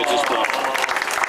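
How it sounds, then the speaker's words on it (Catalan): An audience at a havaneres concert during a town festival, the Festa Major, applauses for Josep Maria. The dense, close clapping is mixed with loud speech and crowd voices over the whole short burst. "Un aplaudiment per en Josep Maria"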